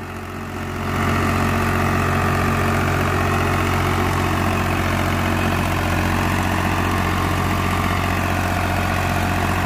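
A heavy diesel Swaraj 735 tractor engine, hitched to a 9-tine cultivator, starts up and settles into a loud, steady idle with a deep, throbbing rumble, close by and continuous.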